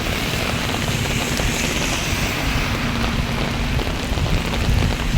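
Heavy downpour, loud continuous roaring rain with a deep rumbling texture, steady and close throughout with no voices.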